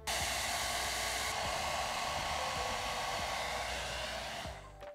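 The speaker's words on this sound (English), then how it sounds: "let me turn my hair dryer on low and glue it down" A steady, loud whoosh of a hair dryer blowing on low, running continuously up close before switching off at the very end.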